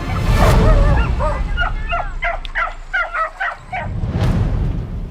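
Dogs on Talim Island in Laguna Lake bark and yip in a rapid series of short, fairly close calls, with a few whimpering, yelping notes in between and a noisy rush of sound at either end.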